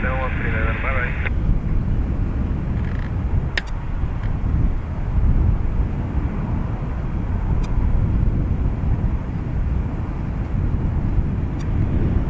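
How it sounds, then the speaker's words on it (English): A Ryanair airliner takes off from runway 28 right at Dublin Airport, a steady loud jet roar and rumble throughout, with a radio voice and short beeps heard over it early on. "Clear for takeoff, 28 right, Ryanair 7139, bye-bye."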